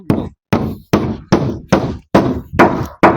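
A hammer drives nails during construction work on a house, landing seven loud, close, evenly spaced blows about half a second apart, each a sharp knock followed by a short ringing decay.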